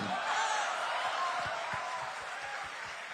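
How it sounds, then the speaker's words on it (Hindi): Audience at a literary festival session claps continuously, a dense wash of applause with some rhythmic low thumps, moderately loud and steady. "तालियों का शोर चलते रहना चाहिए"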